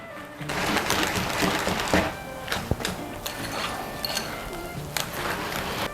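Butter whisked into mashed potatoes for a cottage or shepherd's pie, a continuous busy mix of wet scraping and soft clatter against the bowl, close and fairly loud with a few sharper knocks.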